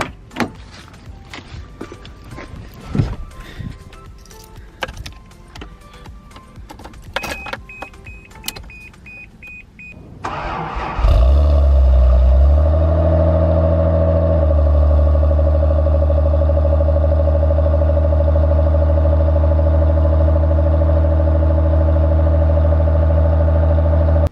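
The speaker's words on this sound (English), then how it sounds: "I'm gonna go start the car right now." A Toyota Supra with its stock muffler still fitted: after some footsteps and handling noises, the engine cranks, catches and settles into a steady, low, close idle that continues to the end.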